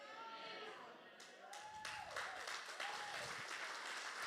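A church congregation applauds in a continuous, moderately loud patter of clapping that swells slightly partway through, with voices mixed in underneath.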